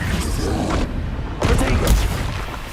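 Blasting spell explosions from Confringo in Hogwarts Legacy, heavy booming bursts with a short quiet gap between blasts, loud and close, with a voice talking over the noise.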